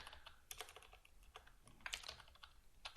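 Computer keyboard keys clatter close by while code is typed, with quick irregular bursts of clicks at a faint level and no talk.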